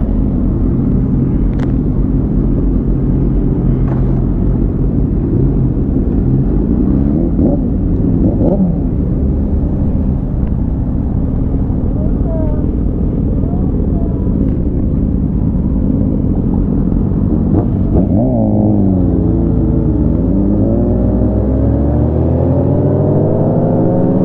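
Sport motorcycles, including a Yamaha R6 and a brand new 2023 Honda CBR600, ride through Chicago with a loud, continuous engine rumble, and revs rise and fall as the bikes accelerate nearby.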